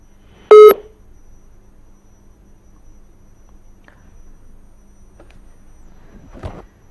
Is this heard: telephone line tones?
yes